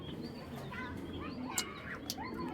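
A pair of king-size Hurricane pigeons coo softly in a cage, with low, muffled calls and a couple of brief chirps rising over steady room noise.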